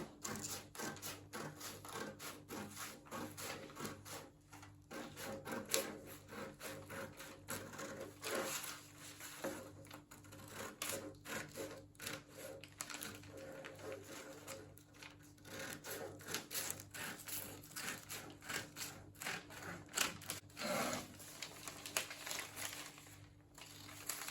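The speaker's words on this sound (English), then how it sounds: "Just cut along the line." Fabric is cut along a marked line to shape a full circle umbrella skirt. Soft, continuous rustling, rubbing and crinkling sounds come from close by and stay quiet throughout.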